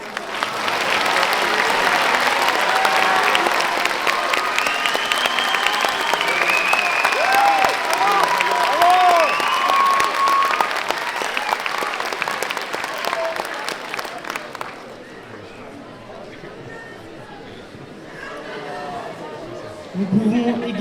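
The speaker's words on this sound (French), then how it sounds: "Nous pouvons aussi applaudir ce soir Noé Guittel." A theatre audience at a high-school eloquence contest final applauds a speaker with loud, sustained clapping and scattered cheers and chatter, fading to a quieter murmur near the end.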